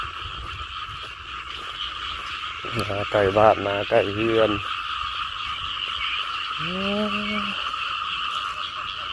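Loud chorus of frogs croaking in rhythmic bursts over a constant high trilling of insects in rural Thailand, with a person speaking briefly in the middle.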